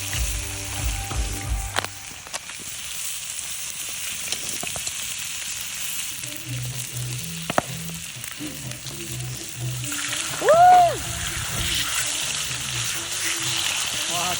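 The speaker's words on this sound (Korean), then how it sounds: "와, 돼지기름에 튀기는 장어." Eel frying in pork fat in a cauldron at an outdoor barbecue, a steady soft sizzle and crackle running throughout with faint background noise.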